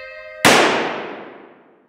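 After a brief held tone, a single sharp gunshot cracks loudly and trails off into a long, fading echo.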